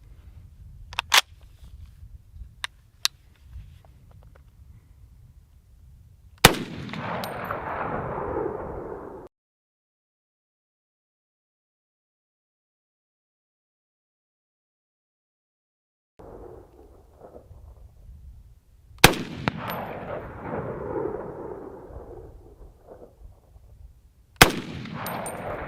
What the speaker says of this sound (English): So let's shoot the 4956.